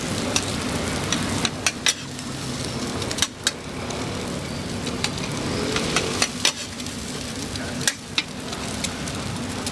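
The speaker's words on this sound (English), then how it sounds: "With 2 spatulas moving in a blur, he begins the Herculean task of mixing, lifting, and tossing the mountain of rice." Two steel spatulas stir-fry shrimp, greens and a big heap of rice on a hot iron surface in a Taiwanese night kitchen: steady sizzle under a low rumble, with sharp metallic scrapes and clacks at irregular intervals.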